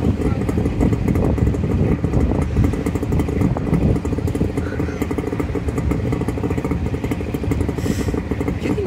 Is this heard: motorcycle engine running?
yes